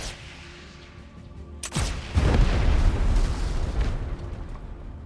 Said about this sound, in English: I mean, obviously they heard the explosion.